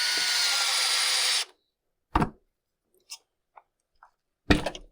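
Power tool whirring steadily for over a second while driving screws into a Husqvarna 592XP chainsaw during fuel tank replacement, then stopping, followed by a sharp clunk, a few small taps and another knock.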